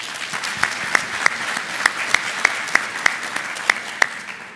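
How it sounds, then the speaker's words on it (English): Conference audience applause before a lunch break, a fairly sparse room of clapping with distinct sharp claps standing out at regular intervals, steady and alone without talk. "I would just give them a round of applause"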